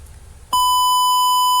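A buzzer in an embedded system simulation starts abruptly and holds a steady, piercing electronic beep, loud and unbroken after a faint low hum.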